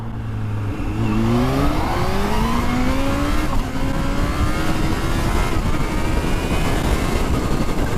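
A Kawasaki Z H2 motorcycle accelerates hard in first gear at roughly three-quarter throttle, its engine note climbing steadily in pitch and staying loud and close throughout, with no voices over it.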